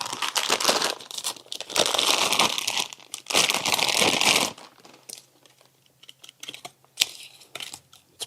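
A BANKS 23 gauge pin nailer is pulled from a plastic bag, giving loud, close crinkling and rustling in bursts for several seconds, then a few quieter scattered rustles and clicks.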